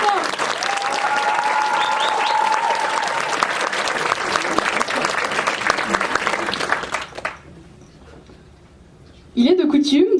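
Festival audience applauds the jury with dense sustained clapping for about seven seconds, a faint tone and voices mixed in, then the clapping fades to near silence before a voice starts speaking.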